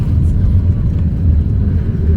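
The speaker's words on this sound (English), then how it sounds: "And yes, we're still in the traffic jam." Low rumbling road traffic in a traffic jam with high trucks and pickups such as Ford F-150s and Rams, a steady close engine drone heard from inside a vehicle with a voice talking over it.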